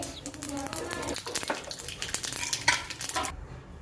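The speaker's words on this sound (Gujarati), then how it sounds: "આપણી રહી તતડી ગઈ છે" Dense crackling and popping of mustard seeds sputtering in hot oil, close and continuous, with a voice talking over it.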